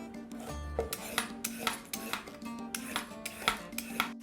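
Carrots being peeled with a metal peeler for pickled jalapeños, a series of short scraping strokes repeating at a brisk, even rhythm, close and clear with no talking.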